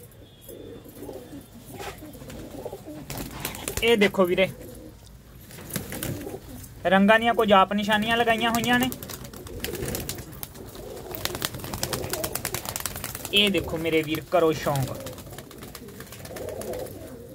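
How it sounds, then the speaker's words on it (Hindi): Pigeons at a Ludhiana pigeon seller's loft give several bursts of throaty cooing, spaced apart, while someone talks nearby in Punjabi. "कुछ कबूतर ये बाकी कबूतर नीचे बैठे हुए ने जी"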